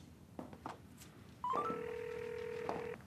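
A telephone call being placed: a few faint button taps, then a steady electronic ringing tone that holds for about a second and a half, clear and fairly close.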